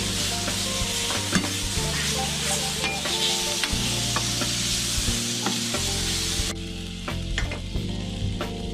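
Food stirred with a touch of soy sauce in a sizzling pan, a loud steady frying hiss with repeated spatula scrapes and knocks, close and continuous throughout.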